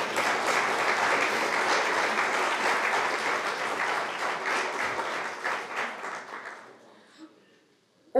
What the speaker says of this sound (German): ja, da könnt ihr ruhig mal klatschen.